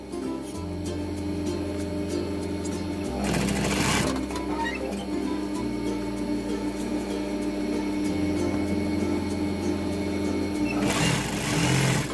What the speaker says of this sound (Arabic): دابا غادي ننتقلوا للماكينه باش غادي نديروا له واحد الخياطه